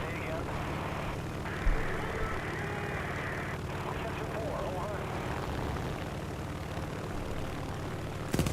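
Aircraft engine drone from the War Thunder flight game, a continuous propeller hum at moderate level with a few faint interface clicks.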